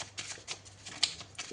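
A deck of tarot cards is shuffled close by in a quiet room, with a short series of soft papery riffles and taps.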